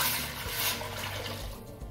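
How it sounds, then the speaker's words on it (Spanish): Fresh water poured into a cooking pot, a steady hissing splash that is fairly faint and fades slightly toward the end, with no speech. "Agregamos agua nueva"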